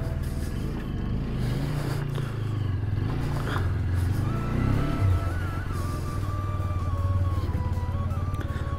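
An Apache RTR sports motorcycle engine runs while riding, a steady low rumble and drone that rises in pitch as the bike speeds up, with wind and road noise.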